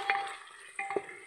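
Vegetable pulao is stirred in a pan in a home kitchen, two brief, close scraping strokes against the pan over a faint sizzle.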